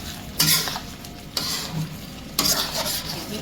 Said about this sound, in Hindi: हम पहले इसकी कर रहे हैं भुनाई अच्छी सी।